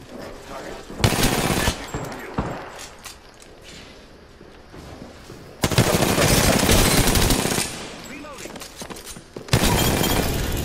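Enemy gunfire in Apex Legends erupts in dense, loud bursts of rapid automatic shots with crackling impacts, pausing briefly between long volleys while a voice talks over it.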